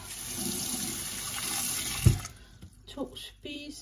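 Two tablespoons of water poured into a bowl for cinnamon roll cake dough, a short splashy run of water that ends with a clunk, followed by soft kitchen handling noises and some voices.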